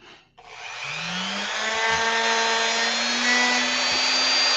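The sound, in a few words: Dremel rotary tool grinding plastic action figure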